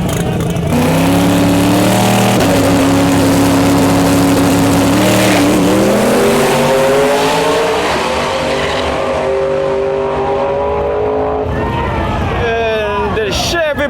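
A Chevy Blazer races in lane-against-lane competition, its engine revving hard with rising and falling pitch sweeps. Crowd babble sits beneath, and the roar surges again at the close.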